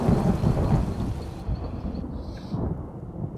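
A thunderstorm in the video game Elder Scrolls Online, with deep rolling thunder and steady rain that stay loud throughout and then settle slightly.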